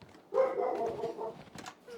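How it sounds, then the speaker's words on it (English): A dog barks in the video game Life is Strange 2, a single drawn-out bark or yelp close by, followed by a few fainter sounds against quiet surroundings. "There's a dog."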